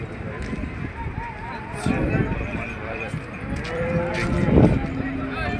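Cattle at the Gadag livestock market, with occasional moos rising from a busy, crowded bustle of animals and people; voices talk throughout and hooves seem to shuffle close by.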